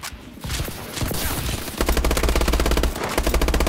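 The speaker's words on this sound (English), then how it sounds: "That was a horrible gunfight, in my point." Rapid automatic gunfire bursts out during a free-for-all multiplayer gunfight in Call of Duty Advanced Warfare, with scattered shots first, then a loud, steady stream of close machine-gun fire.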